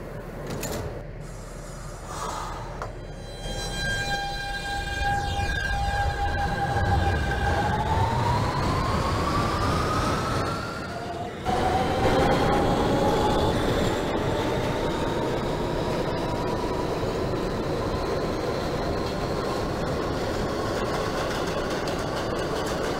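An R160B Siemens subway train on the Q line, simulated in the OpenBVE game, runs with a steady rumble of wheels and a rising electric motor whine, with a brief drop in the noise partway through.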